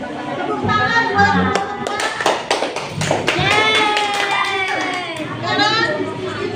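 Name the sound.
children clapping hands in class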